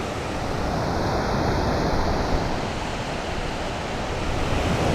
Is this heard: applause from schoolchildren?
no